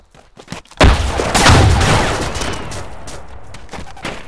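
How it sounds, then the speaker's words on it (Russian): A grenade goes off in ArmA 2 with the ACE mod as a single loud, close blast, followed by a long rumbling decay that fades over a few seconds. "Пацаны, граната!"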